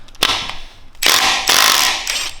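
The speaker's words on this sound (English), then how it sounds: "I'm using just a E14 for the bolt" Ratchet wrench with an E14 socket turning the fuel pump gear bolt on a BMW N47 diesel during timing chain replacement, giving two or three bursts of fast, loud ratcheting clicks close by, each lasting about half a second.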